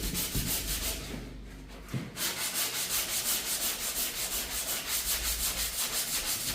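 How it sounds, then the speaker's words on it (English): A thin-metal van panel being hand sanded with a 120-grit sanding block: rhythmic back-and-forth rasping strokes, close and steady, briefly pausing near the start before resuming at an even pace, with no talk. "And then I've just got 120 on a sanding block,"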